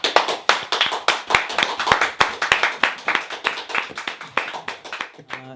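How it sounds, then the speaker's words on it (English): Slow, steady handclaps from a small group, each clap crisp and evenly spaced, continuing throughout at close range with no talking. "Slow clap."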